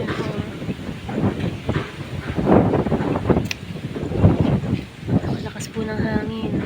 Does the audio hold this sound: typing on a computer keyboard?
no